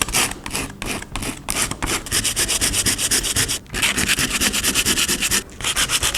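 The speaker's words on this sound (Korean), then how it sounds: "면을 평평하게 하기 위해서 사포로 문질러 주겠습니다" Rapid back-and-forth strokes of coarse sandpaper flatten a patched, protruding spot on an interior wall. The rhythmic rasping is loud and close, with two short pauses between bursts.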